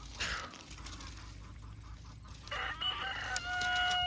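Chickens clucking and crowing in a backyard flock, with a rooster's call rising near the end over steady outdoor ambience.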